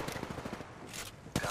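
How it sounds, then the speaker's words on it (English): Video game gunfire rattles in a quick burst of rapid shots, then fades into dense battle noise before a sharp louder shot at the end, close and moderately loud. "Opening fire."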